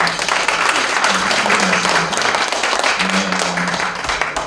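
A church congregation applauding steadily at a prayer service, a dense wash of many hands clapping fairly loud and close, with a voice murmuring underneath.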